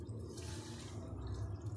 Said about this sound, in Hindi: थोड़ा सा पानी डालेंगे इसको ब्लेंड करने के लिए।